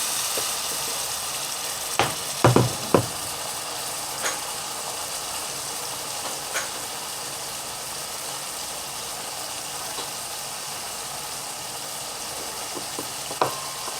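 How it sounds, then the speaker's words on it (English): Green chili cooks in a pan under a steady, even sizzle, broken by a few sharp clinks of stirring early on and scattered faint knocks later. "I'm going to stir it. Stir it."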